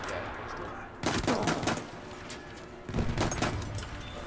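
Sniper rifle fire in Battlefield 1, a French rifleman's Lebel 1886 battle: two loud sharp shots about two seconds apart, each with a rolling reverberant tail, over a steady bed of battlefield noise.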